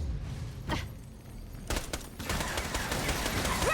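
SMG fire in the shooter game Borderlands: The Pre-Sequel, with several quick bursts of rapid gunshots over busy game noise that grows denser toward the end, with no talking.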